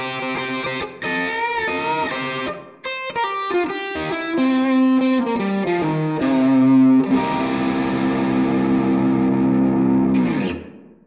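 A G&L ASAT Bluesboy electric guitar played on its bridge pickup through effects, with distorted, chorused single notes and bends followed by a long ringing chord that fades out, loud and alone.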